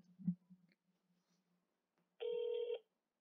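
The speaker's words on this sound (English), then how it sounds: "It's ringing." A single ring tone of an outgoing telephone call sounds clearly for about half a second, preceded by faint handling clicks in otherwise quiet surroundings.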